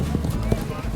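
Horses' hooves clop at a rodeo as riders rope cattle from horseback, a short run of dull thuds heard beneath steady talking and crowd noise.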